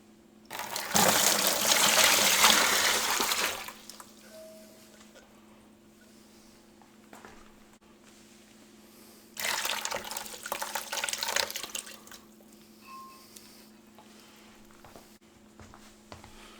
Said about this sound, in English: So we're going to place the brick in the bucket and add the water to that.